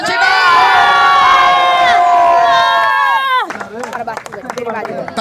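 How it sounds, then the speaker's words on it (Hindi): A loud crowd cheering and shouting with a sustained roar at a village cricket tournament prize ceremony, then breaking into scattered claps and calls. "तालियां बजती रहनी चाहिए।"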